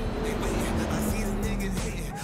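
A car in the video game Cyberpunk 2077 drives with a steady engine drone and road rumble, then the pitch drops slightly as it slows near the end, loud and close with no speech.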